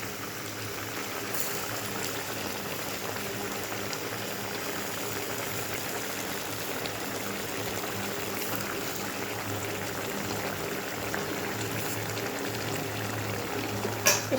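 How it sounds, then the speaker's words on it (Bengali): Prawn curry with coriander leaves bubbling in a pot, a steady close simmering hiss and gurgle that holds evenly throughout with no talking. "এবার আমি ধনে পাতাটা দেবো, দিয়ে টক করে ফুটে উঠিয়ে আমি নামিয়ে দেবো"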